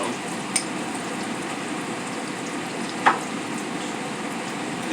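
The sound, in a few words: beer-battered bass fillet frying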